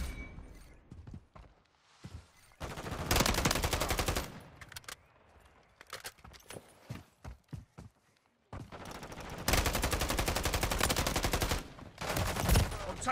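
Video game gunfire in a Call of Duty Modern Warfare III multiplayer match: long bursts of automatic fire and scattered single shots alternate with quieter gaps, loud and close, with brief combat voice callouts in between.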